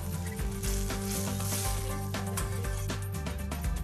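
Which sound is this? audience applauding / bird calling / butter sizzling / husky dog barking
butter sizzling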